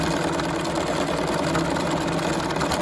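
A sewing machine running fast while doing free-motion granite stitching, giving a loud, continuous, even mechanical whir with no pauses.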